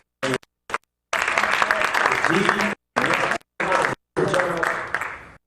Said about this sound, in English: I'll give a round of applause.